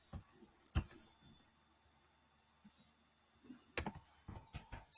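Fingers type on a computer keyboard, entering a password in two short clusters of close, crisp key clicks with a quiet pause between them.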